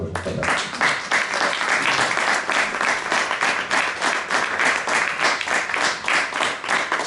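A conference audience in the Ateneo de Madrid breaks into loud, sustained applause, a dense wash of many hands clapping evenly from start to finish with no talk on top.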